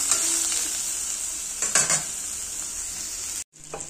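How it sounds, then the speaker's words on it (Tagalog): Tofu (tokwa) frying in a pan for a Filipino stir-fry with pechay, a steady close sizzle with brief stirring scrapes partway through, then a sudden cut to silence before the sizzle resumes. "Prito muna natin"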